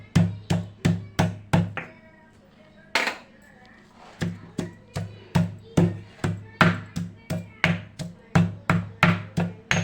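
Garlic cloves pounded coarsely in a mortar for pachi pulusu, a run of sharp, rhythmic thuds close by, pausing briefly before the steady pounding resumes.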